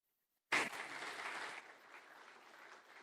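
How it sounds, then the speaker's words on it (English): An audience at a conscious leadership and ethics summit breaks into sudden applause after silence. The clapping is dense and steady, then eases off to a softer, thinning patter. "Please give Brenda another round of applause."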